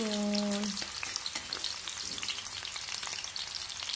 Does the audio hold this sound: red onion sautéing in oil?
yes